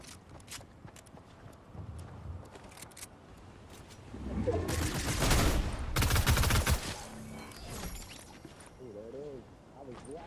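Fortnite gunfire bursts out in rapid volleys, loudest in the middle stretch, mixed with other game effects while a player talks over the action.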